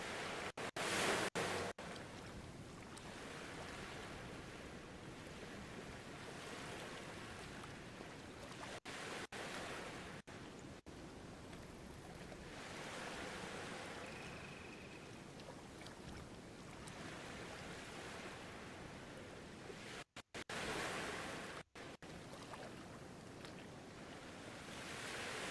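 Ocean waves wash continuously through the Voyagers of Nera video game, a steady rushing surf with a breezy wind texture and an occasional faint tone, without any talking.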